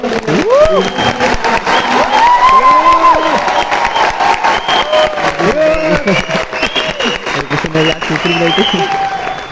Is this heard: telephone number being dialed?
no